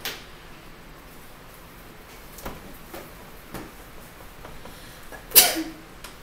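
A single sharp sneeze bursts out near the end, close and loud against the quiet hum of a room during a math lecture, with a few faint knocks earlier.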